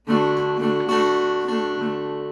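A single strummed guitar chord rings out clearly and sustains, with a few light string re-strikes as it slowly fades.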